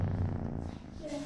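A cat makes a low rumbling purr close by, followed by a short higher vocal sound near the end.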